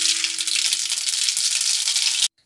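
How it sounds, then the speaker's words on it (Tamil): Dense, steady crackling sizzle of mustard seeds popping in hot oil, loud and close, then cutting off abruptly near the end. "இப்போ வந்து கொஞ்சம் கடுகு சேர்த்துக்கலாம்."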